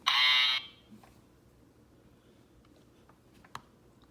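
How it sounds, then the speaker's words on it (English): Battery-powered buzzer on a Play-Doh pig toy gives one loud, harsh electronic buzz lasting about half a second, then quiet room noise with a few faint clicks. "Now it came with this buzzer."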